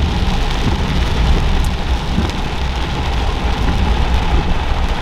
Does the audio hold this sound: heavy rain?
yes